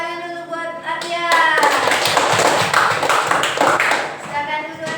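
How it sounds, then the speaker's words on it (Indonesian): Classroom of pupils clapping for a classmate, a burst of mixed hand claps that swells and then tapers off, with voices heard faintly around it. "Kasih tepuk tangan dulu buat Arya."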